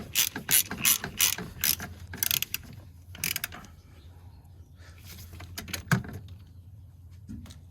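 Ratchet tightening a transmission mount bolt on a 2008-2012 Ford Escape 3.0L V6, with bursts of rapid clicking strokes repeated several times, a pause of quieter shuffling in between, then a few more short ratcheting runs, close up.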